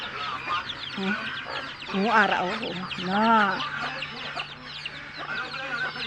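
Chickens kept on a farm cluck and squawk repeatedly near the listener, with a few louder rooster-like calls standing out, while a person speaks briefly over the birds.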